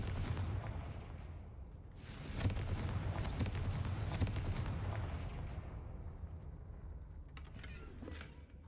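A Confringo blasting spell explodes in Hogwarts Legacy, a broad rumbling blast that swells and then decays slowly into a long, fading crackle with no talk over it.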